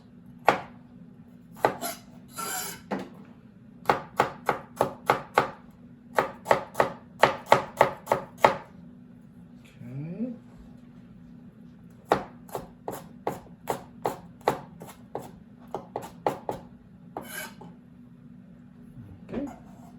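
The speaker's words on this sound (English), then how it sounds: "I'm going to roughly skin it, but it doesn't have to be perfect" A knife works over fresh ginger on a cutting board, making rapid close-up bursts of sharp taps and clicks in uneven rhythmic runs, with brief pauses between them and no talking.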